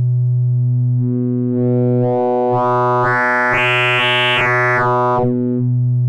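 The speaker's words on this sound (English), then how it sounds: "we're starting to introduce that phase modulation" A pure sine tone in the Massive X synthesizer grows brighter and buzzier as phase modulation is raised, swelling to a harsh, harmonic-rich peak with stuttering breaks before falling back to a smooth hum.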